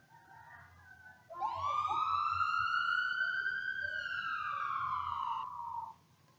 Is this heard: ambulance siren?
yes